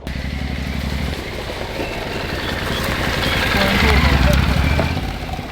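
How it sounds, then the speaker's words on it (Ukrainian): A motorcycle on semi-slick tyres revs loudly up close, its engine note swelling steadily toward a peak and then easing slightly, with a voice talking over it. "Чуть-чуть відкручуєш ручку газу. Тебе вже одразу несе."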